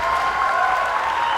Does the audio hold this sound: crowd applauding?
yes